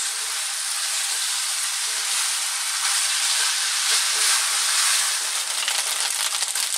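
Chicken fried rice sizzling hard over high heat, a dense, bright, steady hiss that swells slightly as it is stirred, with no voices.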